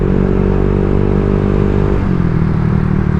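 Honda Vario 125 scooter running with an aftermarket racing exhaust, a steady, loud, deep engine drone that holds on one note and then drops slightly in pitch near the end, with no voices.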